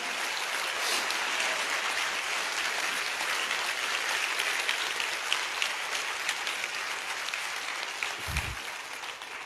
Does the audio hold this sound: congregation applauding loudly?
yes